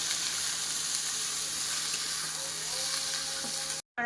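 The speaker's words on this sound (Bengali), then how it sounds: "ভালো করে তেলে ভেজে" Cauliflower frying in hot oil, a dense, steady close sizzle that holds evenly throughout, then cuts off abruptly at the very end.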